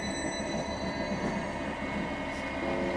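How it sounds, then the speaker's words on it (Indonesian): Night train pulling away from a station surrounded by dark rice fields, a continuous rumbling roll of wheels and carriages with faint squealing tones, steady and fairly close throughout. "beberapa saat kereta melaju meninggalkan stasiun yang sekelilingnya sudah persawahan gelap"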